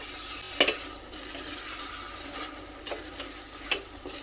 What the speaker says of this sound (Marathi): आता हे परत एकदा छान असं ढवळून घ्यायचं